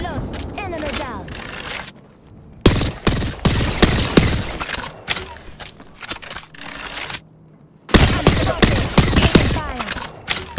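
Rapid bursts of gunfire in Apex Legends, loud and close, in dense clusters with short pauses between volleys, mixed with other game effects.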